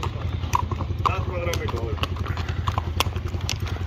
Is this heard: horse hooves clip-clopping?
yes